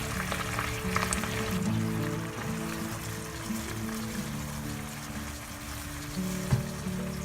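Thai panang curry with lobster bubbling in a pan as sliced kaffir lime leaves go in, giving a steady close sizzle and simmer that runs the whole time over a low hum, with no talking.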